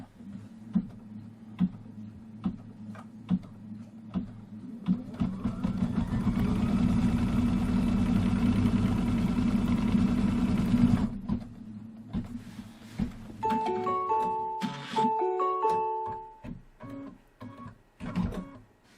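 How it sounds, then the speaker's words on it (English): A sewing machine stitches a seam across a Kimberbell candy corn embroidery quilt block, a steady mechanical whir lasting several seconds amid softer handling clicks, followed by a few brief electronic beeps. "let's put the foot down, and it's going to run a stitch from here all the way over to here"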